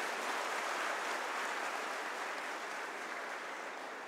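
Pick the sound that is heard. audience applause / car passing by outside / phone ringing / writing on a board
audience applause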